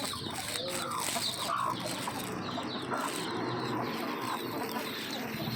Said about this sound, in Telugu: పాలకూర తింటున్నా కోడి పిల్లలు.